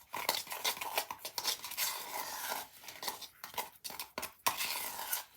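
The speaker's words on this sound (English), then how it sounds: "So give it a really, really good stir." An old palette knife stirs grout mix for a small mosaic pot, making close, busy scraping and clinking strokes in an irregular rhythm with brief pauses and no voices.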